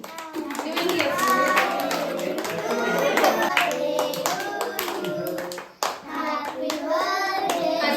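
Family members at a daughter's birthday celebration clap steadily and loudly together, a dense run of hand claps mixed with excited children's voices and chatter throughout.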